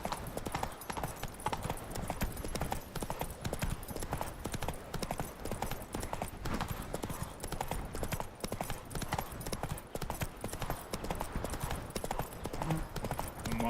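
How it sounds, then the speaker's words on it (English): Steady clip-clop of horse hooves, several animals trotting at a regular rhythm, moderately close and continuous throughout. "wild horses."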